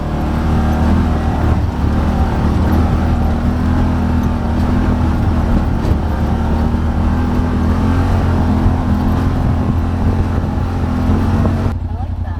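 A Yamaha Rmax side-by-side with nearly 2,000 miles on it drives over a rough trail, its engine droning loud and steady with rattling and jostling throughout and a brief change near the end.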